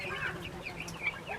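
Chickens and roosters on a chicken farm, soft clucking calls heard faintly over a low background murmur for a brief moment.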